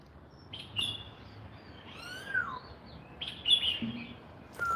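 Small birds chirp and tweet in Da Nang, Vietnam, with scattered short calls and a few longer whistled notes over a low background murmur, fairly faint and at middle distance.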